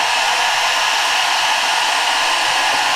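Hair dryer running alongside an electric kettle, a loud, even, high-pitched blowing whir that holds steady throughout with no talking.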